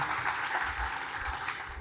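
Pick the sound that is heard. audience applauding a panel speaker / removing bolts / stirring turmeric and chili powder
audience applauding a panel speaker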